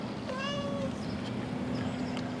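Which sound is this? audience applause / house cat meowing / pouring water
house cat meowing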